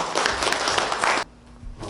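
An audience at a book launch in Seoul applauds to welcome a speaker to the stage, a loud burst of many hands that cuts off abruptly partway through and leaves a quieter room.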